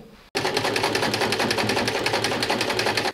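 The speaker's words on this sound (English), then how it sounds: "I will finish off the seams with a zigzag stitch because my overlocker is still broken" A sewing machine zigzag stitches the seams of jeans, starting abruptly after a brief quiet moment and running at a fast, steady mechanical rhythm close by for about three seconds before stopping.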